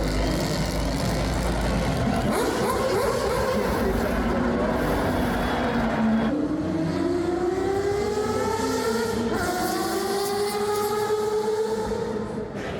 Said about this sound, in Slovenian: legendarni Mazdin dirkalnik z visoko vrtečim se Wanklovim motorjem